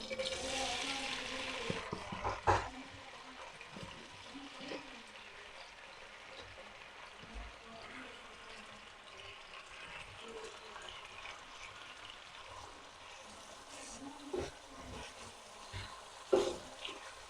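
Chopped onions fry in hot oil in a home kitchen pot for chicken nihari, giving a steady soft sizzle with brief louder crackles and stirring scrapes around the second and sixteenth seconds.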